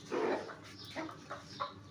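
A hen clucks close by, several short clucks spaced out over two seconds, fairly quiet.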